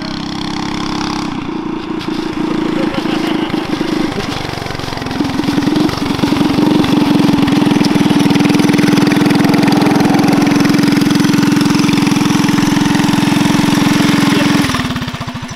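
A mini chopper motorcycle engine runs loud and close, sputtering and revving unevenly before settling into a steady buzzing drone, then cutting off near the end.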